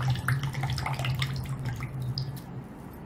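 Water drips and trickles from a squeezed cloth napkin, a close, fairly quiet patter of droplets over a low steady hum that thins out toward the end.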